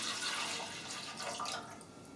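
Milk and water being poured into the pan of a Redmond RBM M1902 bread maker, a soft, quiet liquid splashing and trickling that runs steadily for a couple of seconds.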